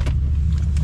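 A car speeds past on the road, a loud close low rumbling rush of engine and tyre noise throughout.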